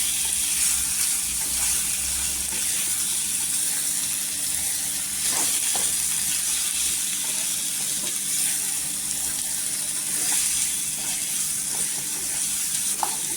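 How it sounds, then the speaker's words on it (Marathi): Potatoes for a spicy Maharashtrian potato curry fry in hot oil with turmeric, giving a steady, close sizzle with soft hissing and occasional stirring scrapes, with no talking. "इथे तेलात परतलेली आहे."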